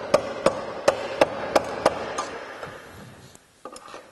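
A hammer taps a Jeep JK inner body panel into place during a rock slider install, six evenly spaced sharp metallic knocks followed by a few quieter, scattered clunks.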